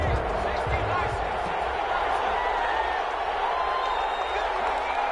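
Football stadium crowd in the Madden video game, a constant loud roar of cheering and clapping rising behind voices talking over it.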